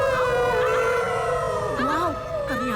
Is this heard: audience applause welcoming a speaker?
no